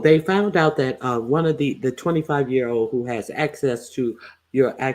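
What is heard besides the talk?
No everyday noises stand out.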